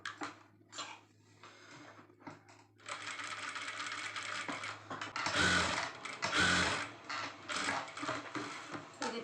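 A sewing machine stitches along the edge of lehenga fabric. A few scattered clicks and short bursts lead into longer runs of rapid, rattling stitching, close up, with brief pauses between runs.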